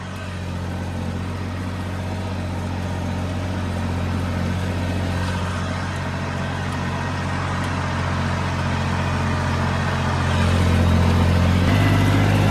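A tractor ploughs at full throttle in L4 gear at about 1700-1800 RPM, giving a loud, steady engine drone that rises slightly near the end, with no voices.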